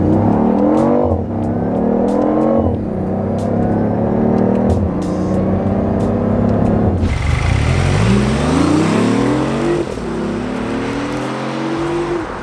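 A BMW i8 hybrid supercar engine revs hard while driving, its pitch sweeping up repeatedly through the gears, then dropping sharply on a forceful downshift before climbing again; loud and close, with no talk.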